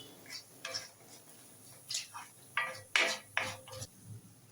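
Intermittent scraping strokes of a spoon stirring masala frying in oil in a pan, several short bursts with quiet gaps, close and fairly soft.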